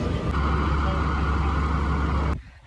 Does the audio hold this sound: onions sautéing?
no